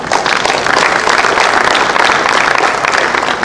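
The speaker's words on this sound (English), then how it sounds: "I think we need to applaud him" A seminar audience at a business expo claps steadily and densely for the full few seconds, a close, continuous wash of applause with no talk over it.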